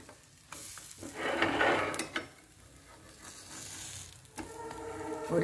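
Pancake batter sizzling in a pan on a low gas flame, a soft steady fry with scraping and stirring, a louder burst near the start and a metallic clink later, no talk.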